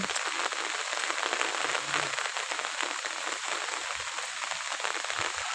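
Rain falling steadily onto surfaces, a soft continuous patter and hiss that stays even from start to finish, with no talking.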